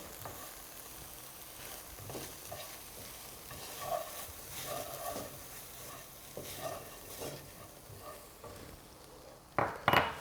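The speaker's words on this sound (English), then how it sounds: "We'll just stir that through." A utensil stirring turmeric through crumbled tofu scramble in a hot pan, with soft scraping and gentle sizzling, occasional light clicks against the pan and a sharper clatter at the end.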